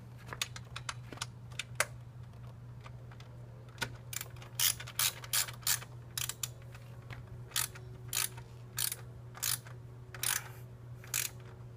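Ratcheting clicks from a wrench tightening the nut onto a bolt of a Givi crash bar on a Yamaha XSR900 motorcycle, rapid close bursts of clicks repeating in short runs over a steady low hum, with no talking.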